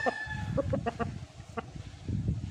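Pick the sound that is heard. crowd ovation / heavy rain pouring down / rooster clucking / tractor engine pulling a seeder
rooster clucking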